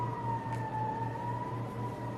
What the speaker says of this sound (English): It's an interesting siren.